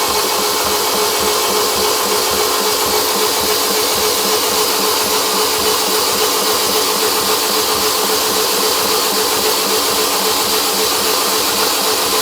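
A rebuilt Fiat Doblo engine runs steadily in a workshop, a loud, continuous mechanical hum with an even idle throb and no pauses.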